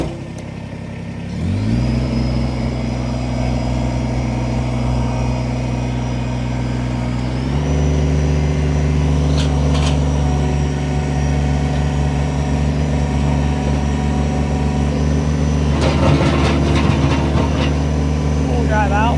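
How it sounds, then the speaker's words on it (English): A 2019 Kubota BX2380 compact tractor engine cranks and catches, then idles steadily up close before stepping up to a higher, busier run, with clatter and knocks in the later part. "We're going to go ahead, fire this tractor up."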